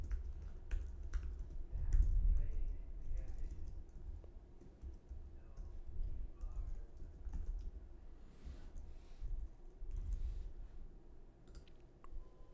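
Soft, rapid keystrokes tap on a computer keyboard in irregular bursts as a new password is typed, with faint clicks against low background hum.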